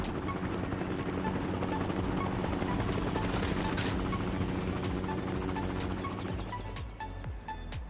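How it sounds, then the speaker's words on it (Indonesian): A helicopter in the mobile game Call of Duty: Mobile keeps up a loud, steady rotor thrum for several seconds, with sharp clicks and brief game sound effects over it, fading slightly near the end. "Ada naik helikopter itu."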